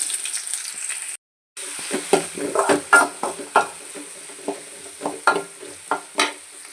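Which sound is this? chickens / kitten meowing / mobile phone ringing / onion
onion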